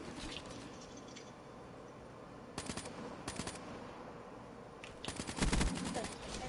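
Bursts of automatic gunfire in Call of Duty: Black Ops 3 crackle in short rapid volleys over a murky game background, with a louder, closer burst near the end.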